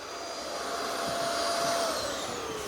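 A vacuum removing bees from a pool pump runs with a steady high-pitched whine and airy roar, close and continuous, with a slight shift in pitch partway through.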